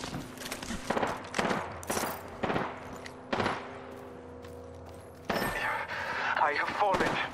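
Gunfire in the video game Apex Legends rings out in repeated sharp bursts and volleys, with a busier stretch of shots and effects near the end.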